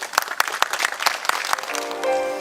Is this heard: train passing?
no